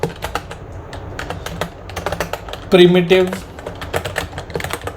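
Rapid clicks of typing on a computer keyboard tap along steadily and close by, interrupted briefly as a person speaks over them.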